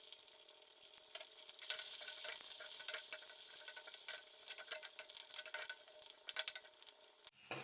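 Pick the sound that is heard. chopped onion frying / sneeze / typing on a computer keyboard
chopped onion frying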